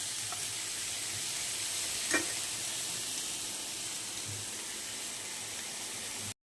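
Vegetables for shukto fry in a pan with a steady, close sizzling hiss. A single clink of a utensil breaks in partway through, and there is no talk.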